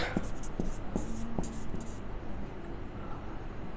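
Marker or chalk writing on a board, a series of short scratchy strokes and taps in a loose rhythm, close and clear, fading into quieter rubbing toward the end.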